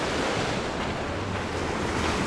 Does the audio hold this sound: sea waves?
yes